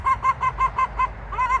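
A rooster near chicken equipment sounds off in a run of six evenly spaced, clipped nasal calls, then two more after a short pause, loud and close with a low rumble beneath.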